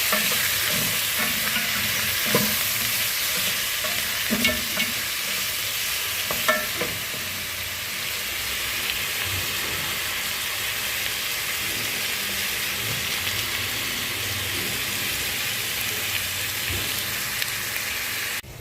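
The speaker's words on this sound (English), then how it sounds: "we are adding in our diced tomatoes and we're going to leave them to cook until they're mushy" Diced tomatoes and beef cubes fry in a pot, giving a steady, dense sizzle with occasional stirring scrapes, close and continuous throughout with no talking.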